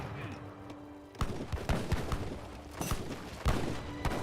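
Heavy cannons fire in a busy Age of Empires 3 battle, with sharp booming blasts at irregular intervals over a dense din of combat noise.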